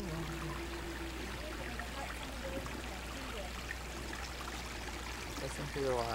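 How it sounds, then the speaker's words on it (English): Stream water flowing steadily at Burr Oak State Park in March, a continuous rushing trickle with faint voices in the background. "Listen to the water."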